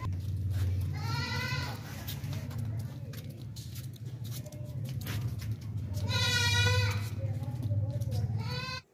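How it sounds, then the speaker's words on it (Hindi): A goat kid with long ears bleats in a livestock market, two wavering cries heard near and clear, one early and one later, over a steady low background hum. "लंबे कानों वाला बच्चा बकरा है"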